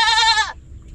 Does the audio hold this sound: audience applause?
no